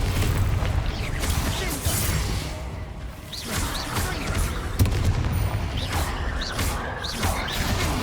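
Spell-casting effects from Hogwarts Legacy on PC, with the Confringo explosion spell sending whooshing bursts and crackling blasts in quick succession, loud and busy, with rumbling impacts between them.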